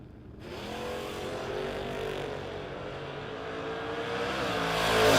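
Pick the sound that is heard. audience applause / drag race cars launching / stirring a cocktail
drag race cars launching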